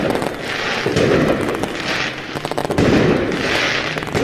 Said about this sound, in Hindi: खूब पटाखे फोड़े